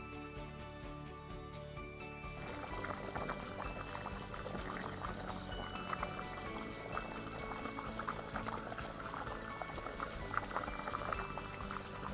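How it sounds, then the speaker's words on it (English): Water poured into a pot of parboiled rice while cooking Nigerian native jollof rice, a steady, fairly faint liquid rush that begins after a short lead-in and continues evenly to the end. "Then I'm going to add water, just enough to cook the rice."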